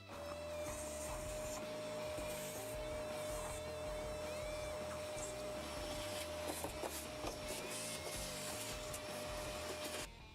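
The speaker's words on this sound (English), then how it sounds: "we can just quickly vacuum all of that out here" A vacuum cleaner sucks dust out of an opened Bosch or Siemens tumble dryer, a steady whining drone with a constant tone, joined by faint scraping and knocks as the nozzle moves inside.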